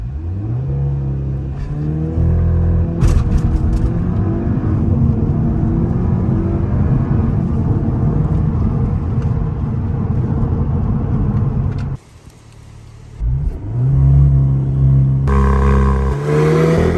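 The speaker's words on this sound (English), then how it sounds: "Time to launch the car." Cupra Leon 245 launching hard, loud engine revs climbing steadily through the gears with a brief drop at a shift, then a fresh surge of acceleration.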